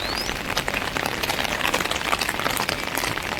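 Steady rain falls outdoors among green trees, a dense even hiss of drops pattering on surfaces close by, continuous and fairly loud with no voices.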